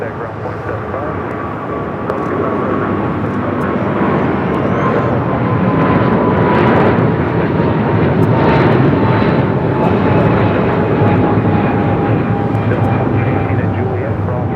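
An airliner at LAX airport gives off a loud, sustained engine roar with a slowly falling whine, swelling in the middle and holding steady, while air-traffic radio voices talk over it.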